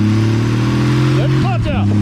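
1950s car engine running loud and close, a steady low rumbling idle with a few quick throttle blips near the end, and a voice speaking over it.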